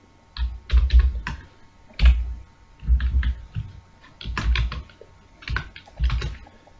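Bursts of keystrokes on a computer keyboard while C code is entered, quick clattering clusters separated by short pauses, close and fairly loud with no talking.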